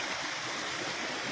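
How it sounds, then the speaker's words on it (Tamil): Stream of water flowing down from Mount Kailash, a steady broadband rush and gurgle, continuous and fairly faint, with no other sounds. "கைலாய மலையிலேருந்து தண்ணி மேலேருந்து கீழே அப்படி வந்துக்கிட்டே தான் இருக்கும்"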